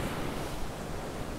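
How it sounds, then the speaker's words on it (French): Ocean waves wash steadily onto a shore as a continuous broad, hissing roar with some wind buffeting the microphone. No voices are heard over it. "Exactement comme vous voyez les vagues juste là derrière moi."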